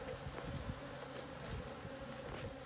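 Honey bees buzz steadily around comb inside a rotten telephone pole during a hive rescue, a faint, continuous droning hum with no voices.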